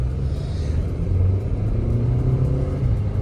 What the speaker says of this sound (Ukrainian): Турбіна дує